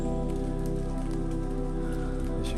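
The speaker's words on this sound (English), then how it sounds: "It's a beautiful day, it's warm, but it's a bit rainy." Rain falls steadily on a warm day during an outdoor walk, a dense continuous patter and hiss under a low constant rumble, with no voices.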